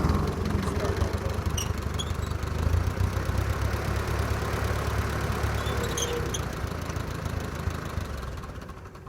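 A vintage Ford 8N tractor engine idles steadily with a low, rough putter and occasional light knocks throughout.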